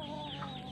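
Wild chickens cluck in a forest, a short continuous fowl call heard fairly faintly over steady background ambience.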